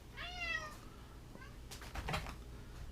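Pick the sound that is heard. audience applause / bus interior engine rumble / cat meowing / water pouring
cat meowing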